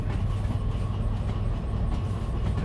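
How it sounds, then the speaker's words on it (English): A freight train in the DV Sim railway game rolls steadily along the rails, carrying gasoline and diesel. It makes a dense low rumble with faint rhythmic rattling, continuous and fairly close, with no talk. "Let's hop off this freight train."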